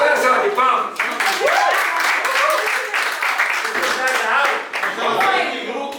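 An audience claps together after a lecture in a church philosophy class, a dense, steady patter of hands lasting several seconds with voices mixed in under it.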